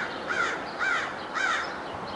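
A crow caws three times in an evenly spaced series, harsh and fairly close, standing out over a quiet background with no talking.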